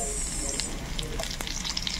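Onions browning in a pan for a fish-in-coconut-milk dish, a continuous close sizzle broken by light stirring scrapes and taps.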